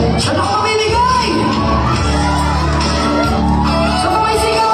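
An audience at a live singing show keeps up loud, continuous shouting and cheering, a dense wall of crowd voices with music faintly underneath.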